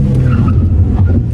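A learner driver's car brakes to a stop during a driving lesson, a low steady engine rumble with a faint scrubbing tire note, close and loud for just over a second.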